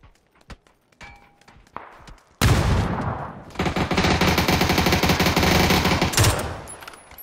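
Gunfire in the PUBG video game starts with a few scattered shots and clicks, then breaks into a loud, sustained burst of rapid automatic fire for several seconds. It is close and dense, and no one speaks.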